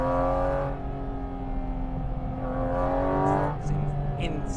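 A Porsche GT4 RS on a mountain road revs hard through several rising pulls with brief dips between gear changes, heard from close by with a faint voice underneath.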